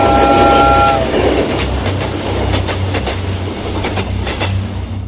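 A train runs along a railway line just outside a village, rumbling loudly with a short horn blast at the start and rhythmic clickety-clack of wheels on rail joints, heard up close with no talk.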